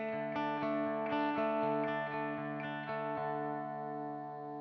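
An electric guitar is picked lightly through distortion, giving a fairly clean, sustained tone with a quick run of plucked notes that settle into ringing chords.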